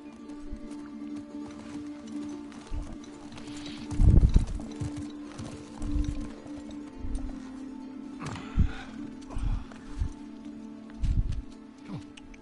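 Roach the horse gallops in a video game, hooves clip-clopping in uneven bursts of heavy thuds over a steady low engine-like drone, close and fairly loud with a brief whinny-free stretch of rustling between strides.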